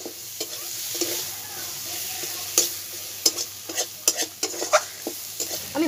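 A mud crab being stir-fried with spices in a pan, a soft sizzle underneath as a spatula scrapes and clacks against the metal in irregular strokes, close and moderately quiet, with no talking.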